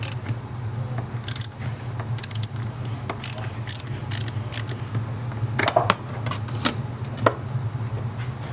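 A ratchet turning a 10mm socket to loosen a car battery terminal on a Mercedes C55 AMG, with quick bursts of metallic clicking pawl strokes repeated many times over a steady low engine-bay hum, close and clear.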